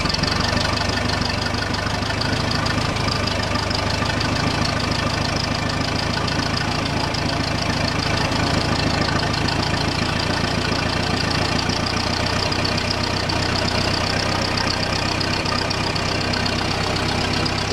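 A forklift engine runs steadily at idle, a loud, continuous mechanical drone with a low rumble and no speech, while the machine is set to move a hunting blind outdoors.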